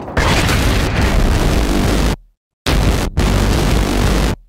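Loud, dense rocket explosions from Battlefield gameplay: a long roaring blast, a sharp cutoff into brief silence, then two more booming bursts close up.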